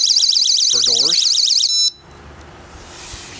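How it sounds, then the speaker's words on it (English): A small magnetic door alarm sounds a loud, rapidly warbling electronic siren, close by, which abruptly cuts off partway through and leaves quiet room noise. "they're those little magnetic alarm systems for doors."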